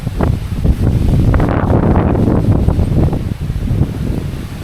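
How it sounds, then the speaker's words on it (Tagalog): Typhoon Kristine's strong wind blasts continuously and loudly against the microphone, a dense roaring rush with rustling foliage and no voices. "Kasi sobrang lakas yung hangin talaga oh."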